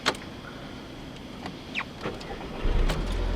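Electric power windows of a 2010 Volkswagen GTI whir up in a couple of short motorized strokes inside a quiet cabin at night, ending with a low thump as they seal.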